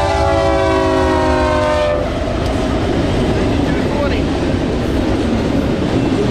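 A fast westbound BNSF freight train roars past an eastbound train nearby, with a loud horn blast at the start giving way to a heavy, continuous rumble of wheels and cars.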